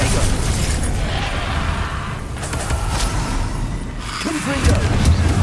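Spellcasting clashes in a Hogwarts Legacy duel, with the Expelliarmus spell bursting among repeated pops and booms in a dense, loud combat mix, with a voice speaking through it.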